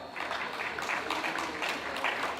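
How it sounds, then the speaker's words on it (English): An audience at a diaspora night event gives a round of applause, a moderate, uneven clapping with small surges that continues throughout. "Give yourselves a hand of applause."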